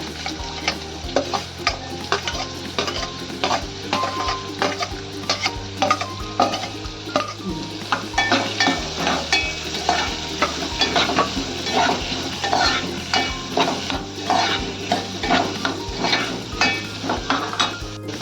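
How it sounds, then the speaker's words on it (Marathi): Onion and green chilli fry in tempering oil for a cluster bean and potato dish, a steady close sizzle broken by repeated stirring scrapes against the pan, with no talking. "आता कांदा आणि मिरची घालूया फोडणीला,"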